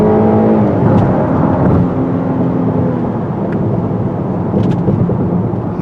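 A 2020 Cadillac XT6 SUV pulls away from a standstill, its engine note rising steadily into a strong, smooth, continuous drone heard from inside the cabin, with no talk.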